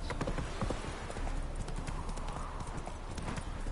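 A horse gallops in The Witcher 3, its hooves clip-clopping in a steady, rapid rhythm that sounds close and clear, with a faint whinny.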